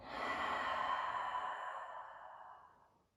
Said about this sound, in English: And one more, big breath in. And big breath out.